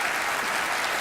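Studio audience applause on a Penn & Teller magic show as a woman named Allison comes up on stage, a brief, dense, steady burst of clapping with no voices.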